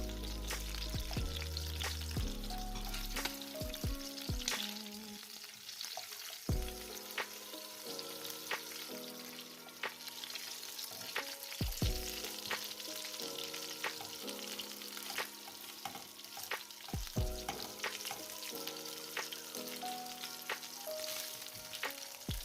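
Meat and potatoes frying together in a home pan, a steady close sizzle with crackles and occasional clatter of stirring or turning over about twenty seconds, with music-like tonal layers running underneath and no talk.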